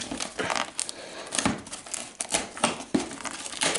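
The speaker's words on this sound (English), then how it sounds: "I'm opening this with nippers" Crinkly plastic rustling with sharp snips and crunches as packaging is cut open with nippers and torn, close by and irregular, with no talking.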